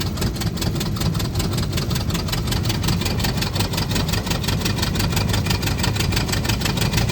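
A 1921 Ford Model T pickup, converted from a sedan, climbs uphill under a little throttle, its engine running in a steady, loud, close drone with a fast, even pulse throughout and no voices.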